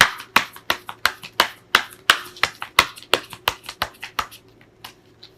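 Tarot cards shuffled and snapped down, a series of crisp slapping taps at an uneven quick rhythm, close, fading slightly toward the end, with no voices.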